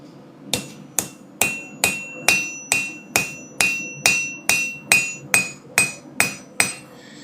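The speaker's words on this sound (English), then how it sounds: "Finally getting to a point where I can actually hit this thing, getting the steel a little bit thickened up." Hot steel being struck with a hammer at a forge: about fourteen sharp, ringing blows in a steady, even rhythm, loud and close, with no talk.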